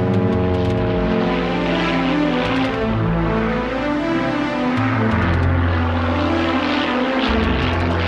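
A propeller airplane rolls down a runway on takeoff, its engine droning loud and steady with a throbbing low roar that shifts in pitch as it powers along, with no voices.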